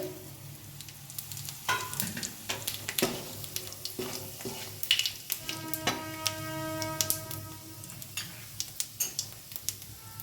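White cumin with cardamom, cinnamon and cloves dropped into hot oil for masala paneer, giving a soft, steady sizzle with scattered crackles and light taps of a spoon stirring the pan.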